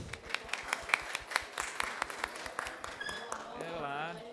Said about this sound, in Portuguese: Carolina Rodrigues, uma salva de palmas.